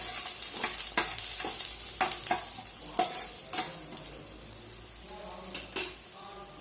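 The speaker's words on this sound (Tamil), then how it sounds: "இப்போ இதில் பூண்டு சேர்த்துக்கலாம். நல்லா கோல்டன் ப்ரௌன் ஆகிற வரை நல்லா வதக்கிடுங்க." Garlic sizzles and fries in hot oil in a pan, stirred with a utensil, giving steady close crackle marked by repeated sharp scraping strikes, with no talk.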